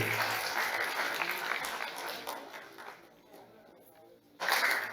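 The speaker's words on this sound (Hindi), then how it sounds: "कंगना रनौत जी के लिए एक बार जोरदार तालियां बजा दीजिए" An audience at a student youth parliament event applauds for Kangana Ranaut, dense clapping that thins and fades midway before a fresh loud burst of claps at the close.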